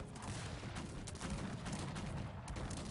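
Cannon fire in the strategy game Cossacks 3, a continuous, faint barrage of overlapping booms and crackling shots with no talking.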